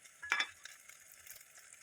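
Samyang instant noodles being stir-fried in a pan, giving a faint sizzle with a sharper scrape of stirring early on and softer clinks after, with no talking.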